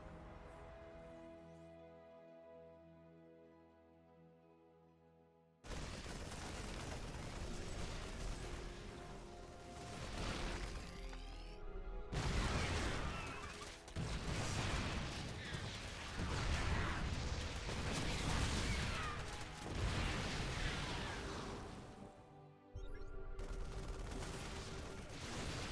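Siege tanks fire heavy booming shots and ghosts snipe in a StarCraft 2 Zerg versus Terran match, dense explosive battle noise cut by brief near-silent gaps, with little talk.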